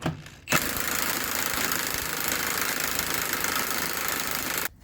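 A Milwaukee power tool runs on a Nissan engine job, buzzing loudly and steadily for about four seconds between abrupt starts and stops, close by with no talk.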